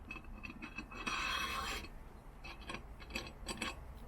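Small metal drop-in nuts slide and rattle into the channel of an aluminium extrusion for a self-built Sprinter campervan, giving a scraping metallic run of about a second, then lighter clicks and taps, close and fairly quiet.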